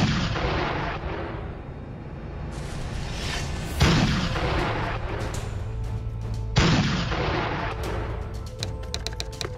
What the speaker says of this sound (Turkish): İsmet Paşa top ateşine başladı